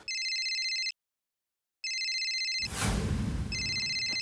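A telephone rings in a high, electronic trill: two bursts separated by a silent pause, then a brief noisy rustle before a third ring starts, in an indoor comedy scene.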